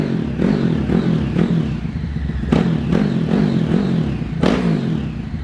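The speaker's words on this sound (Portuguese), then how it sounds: "a moto do baiano não é quatro válvulas não, viu? Mas é turbo, mano." A modified turbocharged motorcycle engine with a timing chain revs hard in bursts, close and loud, with repeated sharp throttle blips and a rough clattering idle between them.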